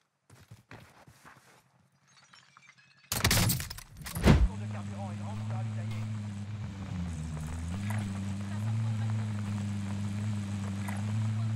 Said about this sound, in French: Il y a une autre voiture dans la game!